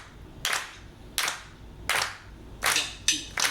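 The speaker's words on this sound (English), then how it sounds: "we're just going to clap quarter notes" Hands clap steady quarter notes for a Latin clave rhythm lesson, five or six sharp, evenly spaced claps close to the microphone with no talking between them.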